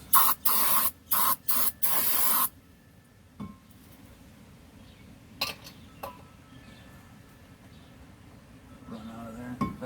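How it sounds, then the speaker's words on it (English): Brake cleaner sprays onto brake parts in several short hissing bursts, then one longer blast, followed by quiet shop ambience with a few faint clinks. "Spray all this down a little bit."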